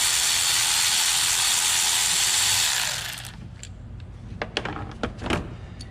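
A ratchet loosens the 10mm bolt holding an ignition coil on a 2009 Toyota Corolla 1.8, a steady loud whirring pass followed by quick clicking pawl ratchets, close up with no talking.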